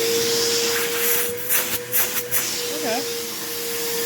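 A repaired vacuum cleaner runs steadily with a loud, hissing airflow and a constant whine, while a person briefly speaks over it.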